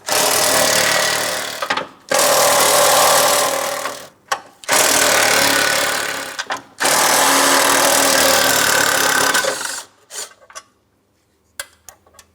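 A power tool removes 13mm mounting bolts from the radiator fan bracket of a 2004-2008 Pontiac Grand Prix, running in loud sustained rattling bursts of a couple of seconds each, separated by brief gaps, then quiet handling clicks.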